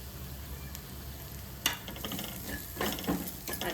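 Ginger and garlic sizzle and fry in a pan with turmeric, chili powder and coriander powder stirred in. The frying carries a steady crackle, and a few sharper clinks and scrapes from stirring come through toward the end.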